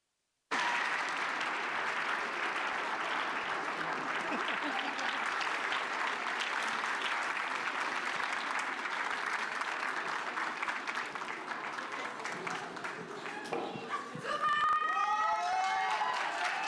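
An audience at a handmade cosplay contest at a Japanese culture convention bursts into loud, sustained applause with cheers and whoops, the clapping holding steady for over ten seconds before shouts and bright whistles rise near the end.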